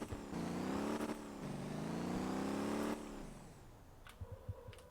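A car engine in the driving game Motor Town starts and revs up loudly, holding a steady harmonic drone for a few seconds before cutting back to a quieter idle with faint clicks and knocks.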